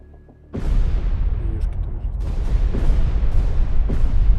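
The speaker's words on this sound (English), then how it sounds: "Ready depth charges. Fire shallow pattern." Depth charges going off in the naval combat game Destroyer: The U-Boat Hunter: after a quiet start a loud, deep rumbling roar of underwater blasts rolls on and swells, with faint tones under it and no voices.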